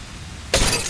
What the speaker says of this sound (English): Throwing thermite grenade.